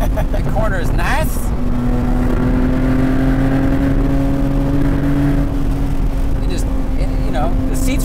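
A BMW M Roadster's engine revs hard while driving, a loud, close rising whine that climbs, holds, then falls off, with voices talking over it at the start and end.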